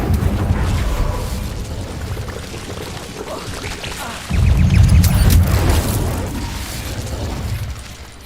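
An Incendio fire spell cast in Hogwarts Legacy, heard as a whooshing, rumbling burst of flame that swells abruptly midway and then slowly fades, near and loud over a low game background.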